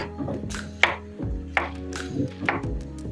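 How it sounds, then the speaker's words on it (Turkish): A knife taps sharply against a cutting board while chopping mushrooms, in a loose, unhurried rhythm, several distinct chops close by with quiet gaps between. "Soğanları kavrulurken arkadaşlar biz de mantarlarımızı doğruyoruz"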